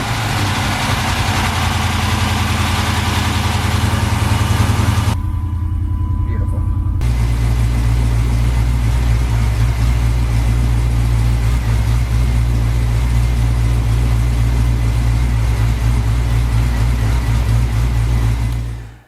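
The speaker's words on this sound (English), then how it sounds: "first startup after the phaser installation with the new phase lock. Give it a shot" A car engine fitted with a newly installed VVT phaser lock cranks briefly, falls quiet for a moment, then fires and settles into a loud, steady, close rumbling idle.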